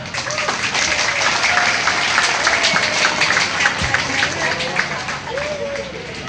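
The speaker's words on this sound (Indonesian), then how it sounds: "Peragaan mohon untuk tepuk tangan." A crowd at a security team drill display applauds steadily with dense clapping, while voices murmur and call out underneath.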